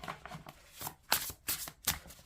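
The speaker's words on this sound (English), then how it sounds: "Let me see how these cards shuffle." Cardboard tarot cards shuffled close up, producing bursts of quick papery flicks and clicking riffles in an uneven rhythm, with no talking.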